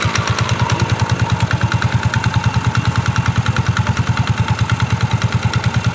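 A Yamaha Fino scooter engine runs at idle after new 9-gram rollers are fitted, a loud, close, evenly pulsing putter throughout.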